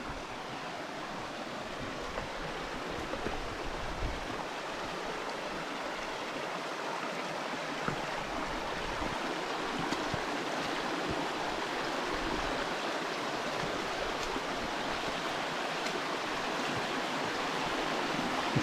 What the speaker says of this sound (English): So now we're going to have to head through the water and make our way around.